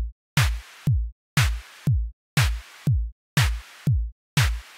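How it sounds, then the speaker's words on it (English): A synthesized kick and snare built from an oscillator and noise in ChucK alternate in a steady, even pattern, each low thump followed by a crisp noisy snare burst with a sharp decay, about eight alternating hits repeating alone, fairly loud and dry. "I've got a file that uses an oscillator and some noise to make a kick and a snare,"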